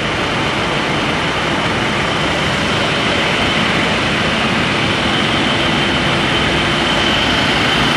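Loud, constant roar of World Airline cargo plane engines at Rhein-Main Air Base in 2003, a broad steady drone with heavy low rumble and no breaks.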